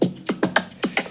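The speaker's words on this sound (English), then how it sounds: "And then after that, I had the open hi-hat" An open hi-hat rides in a programmed Afrobeat drum groove for a song, with sizzling cymbal hits ringing between punchy percussion strikes in a steady, syncopated pattern and no voices.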